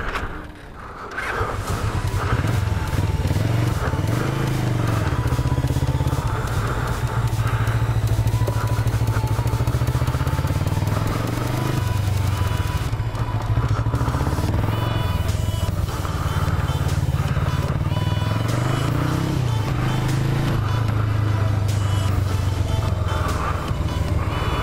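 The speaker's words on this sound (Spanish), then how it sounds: "Primera toma de contacto con la moto de autoescuela, Suzuki GS500." A Suzuki GS500 driving-school motorcycle running steadily, its mid-pitched engine hum loud and close, rising and falling gently with throttle changes throughout.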